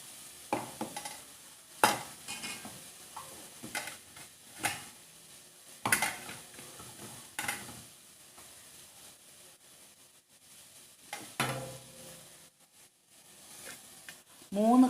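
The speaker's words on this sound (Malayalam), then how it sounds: "അതിലേക്ക് ഒരു വലിയ കപ്പ് ഷുഗർ ഇട്ടിട്ട് കാരമലൈസ് ചെയ്തെടുക്കുക" Pineapple pieces caramelizing with sugar in a pan: intermittent sharp stirring scrapes and soft sizzling, with quiet gaps between strokes.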